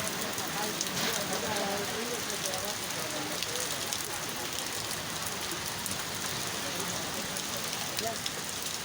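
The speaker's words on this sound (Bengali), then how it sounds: "বৃষ্টি পড়তেছে" A steady hiss of rain falls evenly on surfaces in Mymensingh city, Bangladesh, with faint murmuring voices in the background.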